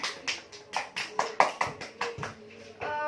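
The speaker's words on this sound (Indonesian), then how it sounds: "Tepuk tangan." A group of elementary school children clap their hands in a classroom, about a dozen quick rhythmic claps that then stop, leaving a faint sustained tone.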